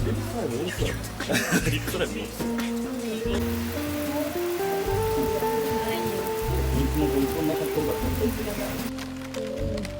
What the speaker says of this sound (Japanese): 雨が降ってるから晴れてくるといいのですが